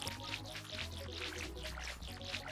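A watering can pours over crops in Stardew Valley, a soft continuous trickling splash set against quiet game music, faint and steady for a couple of seconds.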